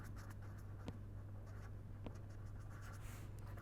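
Writing during an energy economics lecture: faint, quiet scratching strokes in short irregular bursts over a steady low hum, with no talking.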